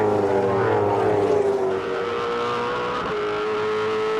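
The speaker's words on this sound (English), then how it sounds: "On board we go there with Rick Kelly" V8 Supercar race car engine at Pukekohe Raceway, heard from the onboard camera: a loud, sustained engine roar with steady harmonic pitch that dips briefly and then climbs again as the revs change, with no voices.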